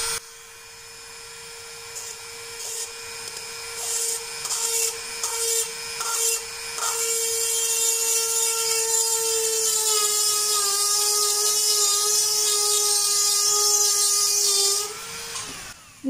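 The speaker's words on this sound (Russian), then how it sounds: "Поэтому я сверлю только с лицевой стороны на изнаночную" A small drill bores a hole through labradorite stone, holding a steady, piercing whine over gritty grinding for most of the time before cutting off abruptly near the end.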